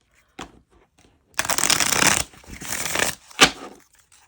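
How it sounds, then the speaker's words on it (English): A tarot deck being shuffled by hand, with brief riffles and a long crisp shuffle lasting about a second, then softer card shuffling and one sharp snap near the end, close and alone without talk. "So we're going to give this guy a shuffle too."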